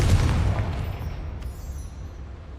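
Hogwarts Legacy's Confringo blasting spell explodes with a heavy, close boom, its deep rumble slowly fading away over a couple of seconds.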